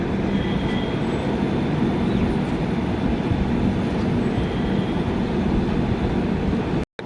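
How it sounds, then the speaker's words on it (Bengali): A passenger train pulls away from Lalkuan junction on the Delhi to Nainital line, its steady rumbling roll and rail noise loud and continuous from inside the carriage, with no one talking. "লালকুয়া স্টেশন ছেড়ে দিল জংশন আমাদের পরের ডেস্টিনি হচ্ছে হলদিওয়ারি"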